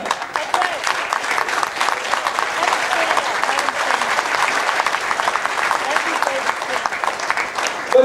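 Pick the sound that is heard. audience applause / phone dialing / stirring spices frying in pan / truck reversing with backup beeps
audience applause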